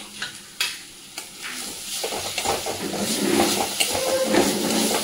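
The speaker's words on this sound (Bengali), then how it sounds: "আদা রসুনের পেস্টটা ভালো করে ভেজে নিই।" Ginger garlic paste fries with already browned onions in a home kitchen pan. A steady, close sizzle builds over a few seconds, broken by several sharp stirring knocks and scrapes.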